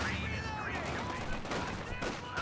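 Submachine gun fire from a Thompson in a competitive match of a World War II–style strategy game, a steady rattle of automatic bursts running throughout with other battle noise and faint commentary underneath.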